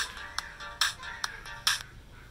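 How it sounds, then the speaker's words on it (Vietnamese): Mobile phone ringtone for an incoming call, a repeating electronic tone in short bright bursts at a regular rhythm, moderately near and heard alone. "Đấy, có cuộc điện thoại."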